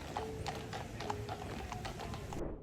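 A royal guard horse's hooves clip-clop on hard ground in a steady, brisk rhythm, fairly clear over a background of outdoor noise, with no talk.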